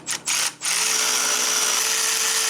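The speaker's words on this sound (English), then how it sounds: "now we can go out, tighten our header bolts" Power tool driving in the exhaust header bolts on a BMW R1300GS during a Black Widow header install, a steady close whirring drone that starts after two short bursts and runs on evenly.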